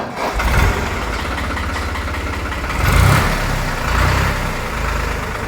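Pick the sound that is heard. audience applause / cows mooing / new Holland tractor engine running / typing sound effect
new Holland tractor engine running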